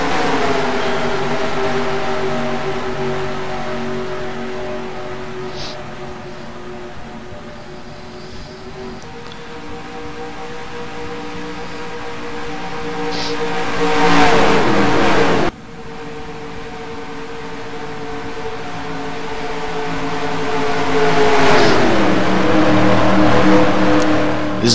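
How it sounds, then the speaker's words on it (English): Race car engines roar in the NR2003 racing game at Charlotte Motor Speedway during the Coca-Cola 600, a loud steady drone with rising and falling pitch as cars accelerate and pass, with no talk. "the number 6, Cody Russell, taking the win here at the Charlotte Motor Speedway for the CocaCola 600"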